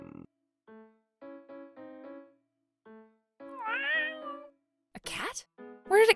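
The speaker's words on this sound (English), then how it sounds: "A cat? Where did it come from?" A black and white cat meows in a series of short, clear calls, followed by louder, rising wails near the end, with quiet gaps between the cries.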